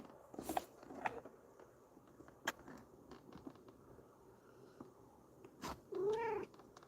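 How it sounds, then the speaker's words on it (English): A sad pet cat gives a few faint, soft vocalizations and small rustling movements, close by in a quiet indoor room, ending with a slightly longer meow-like call; nobody speaks. "I'm hanging out with my cat today."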